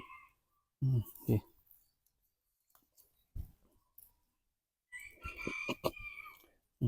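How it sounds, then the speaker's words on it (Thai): Old and young chickens cluck and squawk in short bursts, with a few quiet gaps between calls, fairly close by. "เสียงไก่แก่นะครับ"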